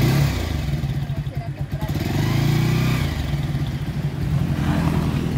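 Running motorcycle engine idling and chugging with low rhythmic pulses, loud and close, steady throughout with some clattering; people talk over it.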